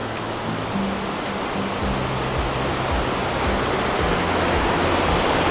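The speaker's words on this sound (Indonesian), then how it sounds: "Wah gila sih ini Badis, syahdu banget ditemani air terjun" The waterfall at Telaga Al Kautsar in Wonopringgo roars as a loud, steady rush of falling water, filling the scene with unbroken broadband noise.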